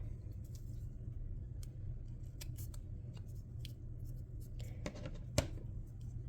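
Scissors trim excess paper from a die-cut cauldron craft, a few faint, brief snips over a steady low background hum with no talking.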